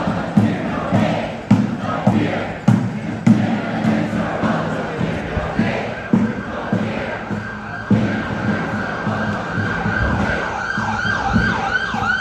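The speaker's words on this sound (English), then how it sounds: "That's ambulance 6." An ambulance siren wails over busy protest crowd and city street noise, its rising and falling tones cutting through a dense, continuous background of chatter and traffic.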